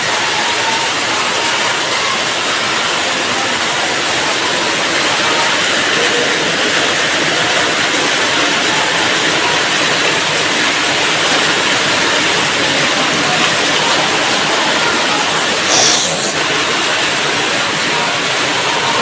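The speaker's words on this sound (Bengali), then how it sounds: "ওই পাহাড়ের থেকে এত পানি আসছে আল্লাহ। নদীর থেকে আসার মতো করে আসছে" Rainwater rushes down from the hills like a river during a rainstorm, a loud, dense, unbroken roar filling the whole stretch, with a brief knock near the end.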